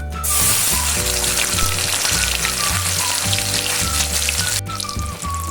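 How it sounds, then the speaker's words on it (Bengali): Paneer frying in hot oil gives a steady, close crackling sizzle that runs continuously with no voices, popping and hissing like rain. "এখন সে তেলটার মধ্যে আমি পনিরটা ভেজে নেব।"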